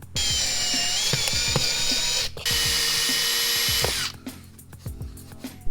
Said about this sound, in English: I'm gonna use those holes to drill this back.